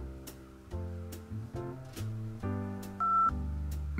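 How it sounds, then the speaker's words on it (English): A telephone is dialed to place a call, a quick series of distinct keypad tones of differing pitch sounding close and clear, one after another with short gaps. "Now he's making a phone call."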